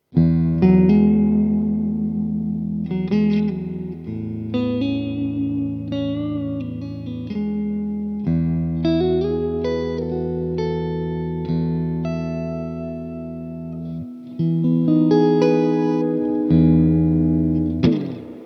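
An Arrow electric guitar on its fourth pickup position, two pickups in parallel, plays sustained chords and single notes drenched in reverb, ringing clearly and alone with a short pause near the end.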